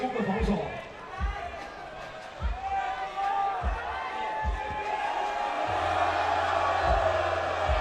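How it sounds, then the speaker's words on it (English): A crowd at a 3x3 basketball game at the U23 World Cup keeps up a loud, steady roar and cheer, with basketballs bouncing rhythmically on the court and a commentator talking over it. "The crowd cheers."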